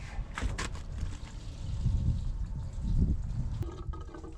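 Gasoline glugs and splashes steadily from a gas can into a car's tank, a close liquid pour with uneven surges throughout.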